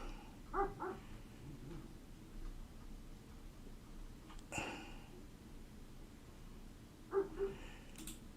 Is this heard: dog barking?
yes